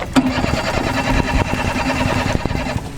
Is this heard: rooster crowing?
no